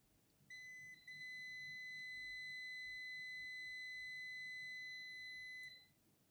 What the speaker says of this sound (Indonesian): Jika berbunyi, maka kabel berikut terhubung gitu.